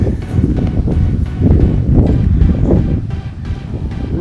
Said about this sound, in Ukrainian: Вітер дує.